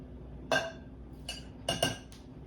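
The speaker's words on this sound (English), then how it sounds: "take 2 tablespoons of the half and half and put that in" A spoon clinks against a bowl while half and half is added to a yogurt mixture, giving a few sharp metallic taps spread over a quiet kitchen background.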